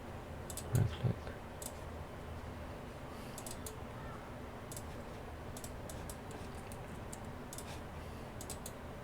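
Two sharp mouse clicks sound close together near the start of a tutorial building a student records system in Excel VBA, followed by a quiet, steady room hiss with scattered faint ticks.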